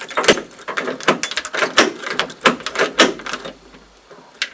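Keys jangle and rattle against the door lock of a 1979 Ford pickup truck, with close, loud clinking bursts of metal on metal that grow sparser toward the end.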